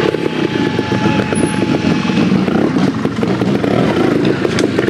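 A trials motorcycle working through a section at a Christmas trial in Kirkby, its engine running steadily and loudly near the listener with clattering over the terrain and no clear speech.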